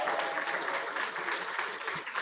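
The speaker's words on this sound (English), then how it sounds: "One more round of applause." Audience applause at an arts event, a steady wash of many hands clapping together, moderately loud and continuous with no speech over it.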